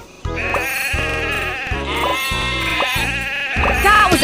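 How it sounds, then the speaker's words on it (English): Cartoonish sheep bleats from a children's train video game sound out repeatedly in a steady rhythm, layered over bright, busy game music. "Sheep have wandered onto the tracks"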